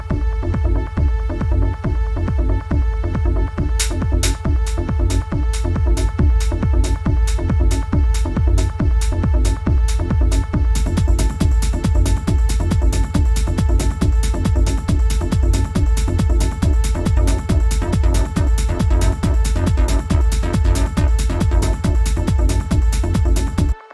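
Simple subtractive sawtooth synth riff in a 90s-style hard techno groove, loud and steady over a driving kick pattern, with hi-hats joining partway through and no voices.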